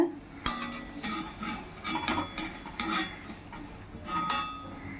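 Fried spinach pakoda lifted out of a pan of hot oil, with scattered metallic clinks and scrapes of a utensil against the pan, one sharp clink early and several softer taps spread over the moment.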